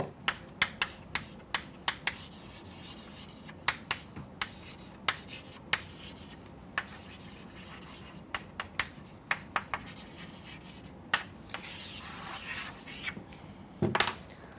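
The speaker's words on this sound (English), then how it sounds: "I will write these terms on the board." Chalk taps and scratches on a board during a literature lecture, a quiet run of sharp clicks and strokes at irregular intervals, with a brief scuffing burst near the end.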